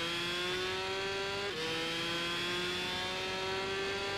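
A steady, thin, high-pitched engine whine from a Honda racing motorcycle in the video game Tourist Trophy drones continuously with a brief dip in pitch midway, like a small motorcycle engine held at constant revs.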